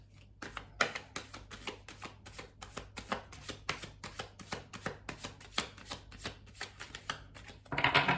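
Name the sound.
shuffling tarot cards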